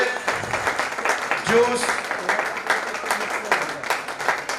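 Loud applause from an audience at a Republic Day celebration valedictory session honoring a young entrepreneur, dense clapping sustained throughout with a voice speaking over it.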